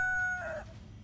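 A rooster gives the tail end of a crow, a strained, sustained tonal call that wavers and fades out within about a second.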